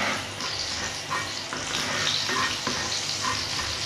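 Chicken sizzling in masala on a tawa, a continuous close hiss with faint scraping stirs running throughout.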